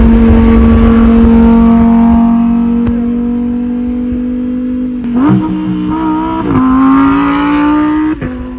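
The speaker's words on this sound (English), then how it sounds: "as we're leaving, Kiefer has to race the Lamborghini with the E46" A BMW E46 built as an M3 GTR replica races a Lamborghini: a loud, close, sustained engine drone that holds steady, then rises and shifts pitch through gear changes as the cars accelerate.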